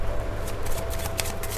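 Tarot cards are shuffled up close in a continuous, papery riffling flutter. The sound is fairly loud and carries no speech.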